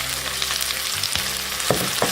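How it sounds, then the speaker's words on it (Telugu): Chicken pieces frying in a pan, a dense close sizzle running throughout, punctuated by a few sharp scraping or stirring knocks toward the end, with no talking. "చికెన్ మనకి బాగా ఫ్రై అయింది కదా, చూడండి ముక్కలు కూడా చాలా బాగా ఫ్రై అయినాయి."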